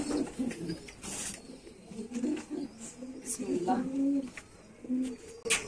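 Pigeons coo repeatedly at a loft with black-headed pigeon chicks, soft low calls scattered through the clip alongside occasional rustling and background noise.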